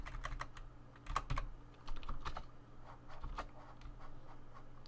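Computer keyboard keys clicking irregularly at close range while a Blender animation is set up, with quick clusters of taps and a faint steady hum underneath.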